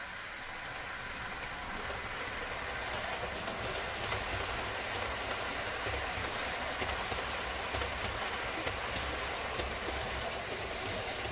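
A model railway train runs along the track on a main line layout, giving a continuous close rumbling hiss with faint rhythmic clicks that swell slightly partway through.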